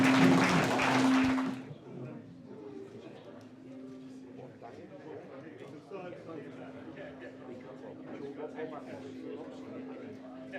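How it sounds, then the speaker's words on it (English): Brief loud applause and cheering from an audience at a boxing promotion event rises and quickly dies away after about a second and a half, followed by murmuring crowd chatter and a steady hum. "Let's have a round of applause for both guys."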